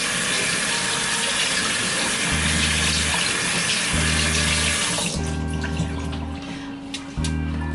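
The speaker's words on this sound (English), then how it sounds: "now I'm just gonna go ahead and rinse them off and place them on this pan" Kitchen tap water runs steadily into a sink while vegetables are rinsed for a crab cake dinner with asparagus, a continuous close splashing stream with low humming tones pulsing underneath and no talk.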